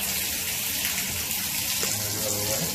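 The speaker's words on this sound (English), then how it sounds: "I'm going to turn the water on." Water running from a shower after its diverter valve has been replaced, a steady broad hiss of flowing and splashing water that holds even throughout, fairly loud and close.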